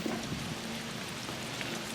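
Steady rain falls on a vegetable garden in June, a continuous dense hiss of drops with no talking.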